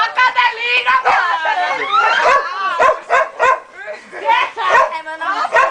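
A small female dog gives rapid, high-pitched yips and whining barks in close succession, loud and near, with brief pauses between bursts.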